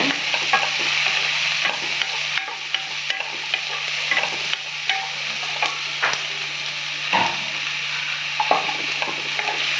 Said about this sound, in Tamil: கருவேப்பிலையும் போட்டுக்கலாம் நல்லா வதக்கிக்கிங்க